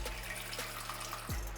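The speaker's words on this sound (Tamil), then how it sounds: "இந்த தண்ணியை வந்து கீழே கொட்டிட்டு நம்ம இதில் மறுபடியும் தண்ணி ஊற்றலாம்." Water pours and splashes briefly from a vessel emptied after soaking peeled potatoes in a kitchen, close and steady, ending in a short sliding tone.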